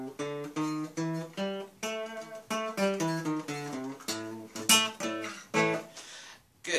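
A guitar plays one octave of the blues scale, single notes picked one after another in a steady, even rhythm, close and clear with no talking over it.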